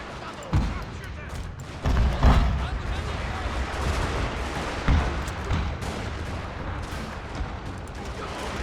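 Gunfire and artillery in a strategy video game: scattered booming shots and thuds under a continuous rumble of battle, with a few louder reports standing out and a voice speaking over the action.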